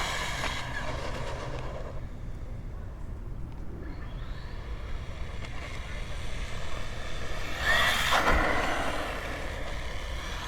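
A DEERC H16E RC car runs at speed during a speed run, giving a steady, broadband rushing roar that swells into a louder, brighter burst near the end.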